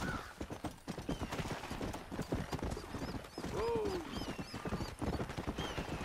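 Horse hooves clip-clopping in steady rhythm in Red Dead Redemption 2, with a horse whinnying midway and faint bird calls, all in a busy outdoor game soundscape.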